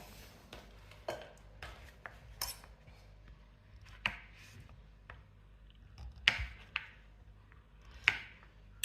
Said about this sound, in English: I'm just going to cut them and into the chunks and add them straight into the bowl